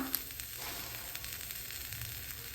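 Eggplant, two tomatoes and green chillies roast on a griddle over a gas flame, giving a faint, steady crackling sizzle with no talking.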